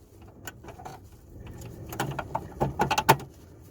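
Plastic parking light bulb holder on a BMW E90 3 Series being worked back into its housing, a string of small close clicks, taps and rattles building to a sharper snap near the end, no voices.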